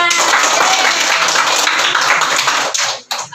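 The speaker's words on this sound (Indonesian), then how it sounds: "Oke, tepuk tangan." A group of people clap their hands together in a dense, loud burst of applause that fills the room for a few seconds before tapering off abruptly.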